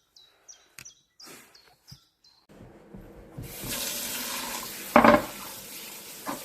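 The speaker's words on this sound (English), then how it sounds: "Give a bit of a wash." Dandelion leaves are rinsed under a running kitchen tap, starting with a few small clicks and taps, then a steady rush of water that splashes louder for a moment as the leaves are moved under it.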